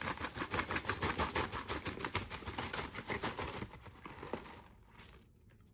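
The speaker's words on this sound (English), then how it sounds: "But it's still the sound of coins." Old coins, including Indian pennies and Buffalo nickels, spill out of a bag in a rapid cascade of metallic clinks and jingles that thins out into a few scattered rattles and a final clink.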